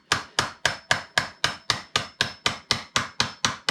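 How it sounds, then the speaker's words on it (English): A wrench on a water filter housing is struck in about thirteen evenly spaced sharp knocks, close and fairly loud in a quick, steady rhythm, with no speech. "I'll go back here and give it a little bit of a tap"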